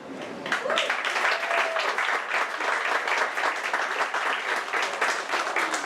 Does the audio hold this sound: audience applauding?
yes